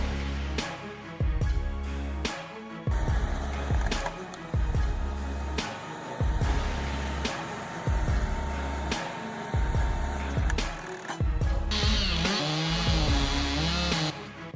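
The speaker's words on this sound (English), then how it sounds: "A stubborn oak stump meets the STIHL MS 362 with a 2/8-inch bar" A STIHL MS 362 chainsaw with a 2/8-inch bar cuts into a stubborn oak stump, its engine snarling loud and close in repeated surges that bog under load and rev back up, with wood crackling through the cuts.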